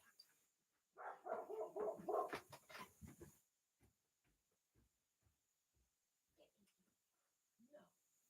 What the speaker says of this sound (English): I have to revoke the puppy's privileges for outside right now because she won't stop barking at something